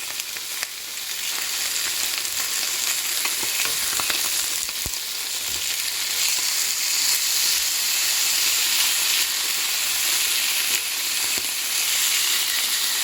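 Fish fries in a pan over medium-high flame for tacos, a loud, close, unbroken sizzle and hiss of hot oil that holds steady throughout with faint crackles.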